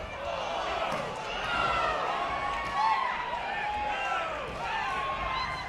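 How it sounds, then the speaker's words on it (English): A boxing crowd at a Cleotis "Mookie" Pendarvis vs. Fernando Rodriguez fight cheers and roars in the distance, a continuous swelling babble under steady commentary. "as you can hear the crowd getting into it"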